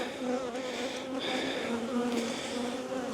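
Honey bees buzz around an opened hive, a dense, continuous, close swarm drone with slight swells in intensity and no talk.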